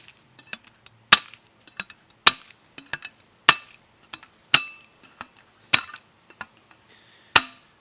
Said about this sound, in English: when we come over here to our V-notcher with the pointy end on the top